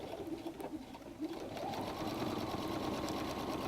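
A sewing machine back stitches through three to four thicknesses of messenger bag fabric at a 3.0 stitch length, a steady continuous mechanical whir that shifts and settles into an even, louder hum partway through.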